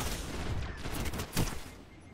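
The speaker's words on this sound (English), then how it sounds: "During the pulse rifle meta, you could 2-burst them with this" Nirwen's Mercy pulse rifle in Destiny firing loud, crackling multi-shot bursts in quick succession, with the heaviest burst standing out near the end over a dense layer of gunfire.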